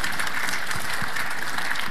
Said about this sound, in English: let's give him a round of applause as we fulfill his dream